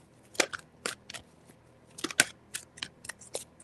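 Oracle cards are shuffled by hand in quick, irregular bursts of crisp snapping and riffling, close and fairly quiet, with short gaps between the flurries.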